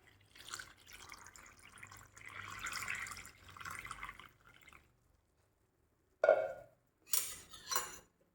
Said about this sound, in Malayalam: 1 കപ്പ് അരിപ്പൊടിക്ക് 2 കപ്പ് വെള്ളം ഒഴിച്ചു കൊടുക്കാം